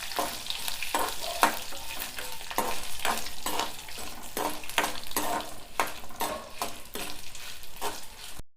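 Dried red chilies and lentils frying in oil for a ground chutney, crackling continuously while a spoon stirs and scrapes the pan in frequent, irregular strokes, close up with no talking.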